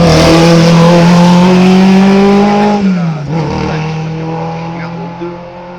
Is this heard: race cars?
yes